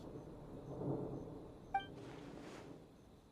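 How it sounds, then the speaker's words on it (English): Thunder in the video game Genshin Impact rumbles low and faint, rising and fading in a dull roll, with a sharp bright chime partway through and a brief hiss after, with no speech. "what was with that thunder just now? It came out of nowhere and it's not even raining!"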